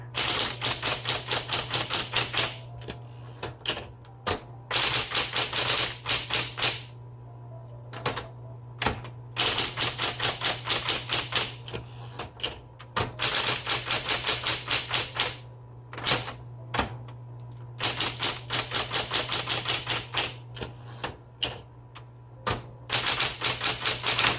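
A 1970s Smith Corona Electra 120 electric typewriter types in steady rapid bursts of sharp key strikes, with short pauses between runs and a constant motor hum running underneath throughout.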